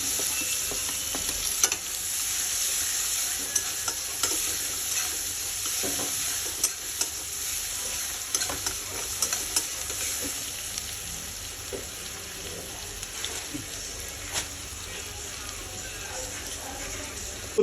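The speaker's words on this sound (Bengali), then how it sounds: "তো এখানে পেঁয়াজগুলো এরকম ভেজে নেব।" Chopped onions sizzling and frying steadily in a pan for Bengali rupchand fish curry, a continuous bright hiss with occasional stirring scrapes and clicks, close and fairly loud.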